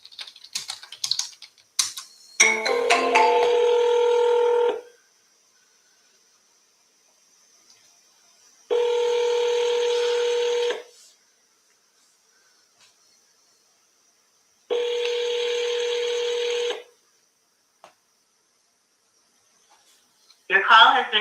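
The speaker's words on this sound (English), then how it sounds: "They just responded to my text, so let's just call." A telephone call being placed on a phone, with a short burst of tapping at the start followed by three long, loud ring tones separated by silence.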